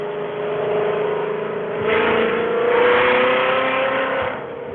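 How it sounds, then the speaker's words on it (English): A car engine revs under throttle, the pitch climbing steadily as it builds through two louder surges before easing off near the end, loud and close with no talk over it. "Let's hear this damn car."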